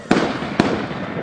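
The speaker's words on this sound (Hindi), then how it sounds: "पीछे गोली, 2 राउंड गोली चलती हुई साफ उसकी आवाज सुनाई देती है।" Two sharp gunshot bangs in a terrorist attack on tourists in Jammu and Kashmir, spaced about half a second apart over a dull, noisy background, neither followed by a long echo.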